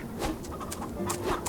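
Little ducks in the video game Farm Together, a brief cluster of soft quacks and chirps over a low murmur.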